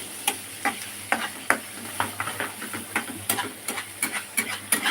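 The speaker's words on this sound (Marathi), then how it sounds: "आपण त्याला मॅश धवायचं म्हणजे चांगलं मिक्स झालं पाहिजे" Kanda poha mixture with onion, mustard seeds, cumin, green chillies, coriander and curry leaves being stirred and mashed in a pan, close rhythmic scraping and tapping strokes of a spoon repeating every half second or so over a faint sizzle.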